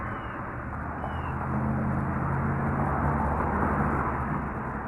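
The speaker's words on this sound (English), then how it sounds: "Sorry about the road noise." Steady road traffic from nearby passing cars, a broad, continuous rumble and hiss near a cemetery, swelling slightly partway through.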